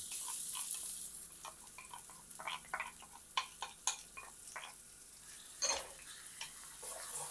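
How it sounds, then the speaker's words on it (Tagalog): Garlic and onion sauté in oil in a pan, a soft steady sizzle broken by clicks and scrapes of stirring, close and fairly quiet with no talk. "Isusute na natin yung ating uh, garlic and onion."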